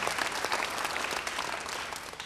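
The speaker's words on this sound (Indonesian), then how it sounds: "Beri tepuk tangan yang baik buat dia." A church congregation gives a short burst of steady applause, dense clapping filling the room without a break.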